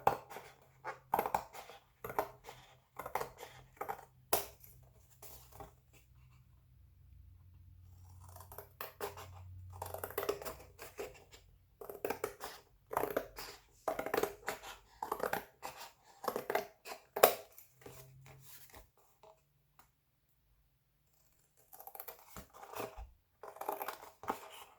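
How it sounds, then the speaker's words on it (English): Scissors cutting through thick cardboard for a journal cover, heard close as repeated crunchy snips and scraping in uneven bursts, with a few short pauses and no talking. "This cardboard can be kind of thick and hard to cut"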